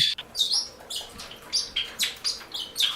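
Bourke's parakeets chirping in short bright bursts, repeated every half second or so, close and clear over a quiet room.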